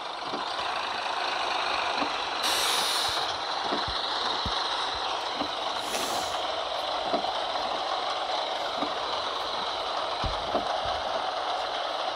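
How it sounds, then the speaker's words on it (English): Air brakes hiss in bursts as a school bus parks in the Bus Simulator 23 video game, two sharp releases standing out over a steady engine rumble with faint clicks and beeps. "park the bus."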